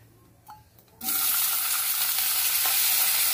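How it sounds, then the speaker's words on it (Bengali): Near silence with a faint tap gives way to a sudden loud, sustained sizzle as chopped tomato hits black cumin (nigella seeds) frying in a little oil in a pan. "তেল বেশি লাগবে না, তো এই অল্প তেলে কালো জিরাটা ভেজে নিলাম"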